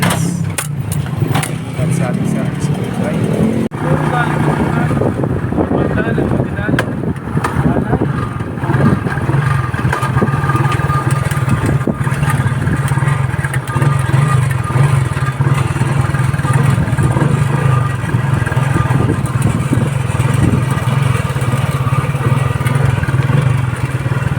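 A motorcycle engine rumbles steadily and loudly throughout, with wind buffeting and clattering, while voices talk over it now and then.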